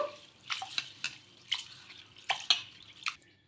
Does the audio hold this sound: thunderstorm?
no